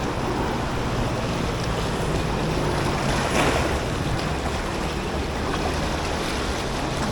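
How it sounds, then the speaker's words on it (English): Rough water with waves and wind rushing past a boat on open water, a loud, steady broadband wash lasting throughout with a slight swell midway. "we've been getting some rough water lately"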